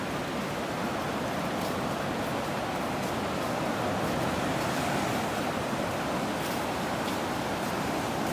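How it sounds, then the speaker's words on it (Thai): Sea waves wash continuously onto a beach, a loud, unbroken roar of surf with wind buffeting the microphone and no voices. "ตามน้องอิงฟ้าลงทะเลไปเลย"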